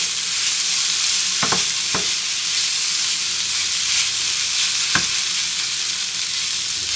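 Pork with herbs browning in a hot pan on a home stove, a steady close sizzle and frying hiss, broken by a few sharp clicks or utensil taps of stirring.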